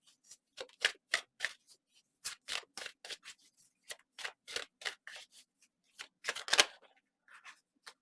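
Tarot cards shuffled by hand in a run of quick, crisp riffling bursts with short pauses between them, close and fairly loud, no talking.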